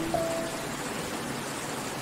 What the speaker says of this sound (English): And adding in that rain effect that our pal Llama 2 hinted at.